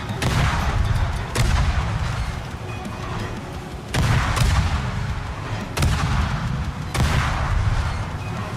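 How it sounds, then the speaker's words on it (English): The guns of a Pan-American cruiser fire over and over in a naval battle video game: heavy, loud booms arrive every second or so over a constant rumbling roar, with no talk. "we can just continuously fire at this guy"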